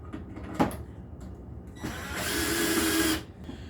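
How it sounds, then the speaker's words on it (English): A power drill drives screws into a handmade wooden gift piece, with a short burst first and then a longer whirring run after a pause, loud and close with no talking. "And then I can screw these down."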